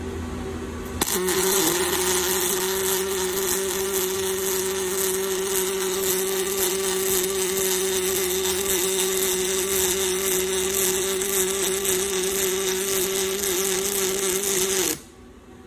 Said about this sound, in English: I am going to turn my weld on.